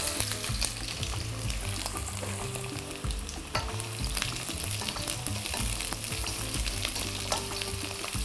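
Pork neck sizzles and spits in a hot pan while being stirred, dense continuous frying noise with the scrape and clatter of a utensil against the metal.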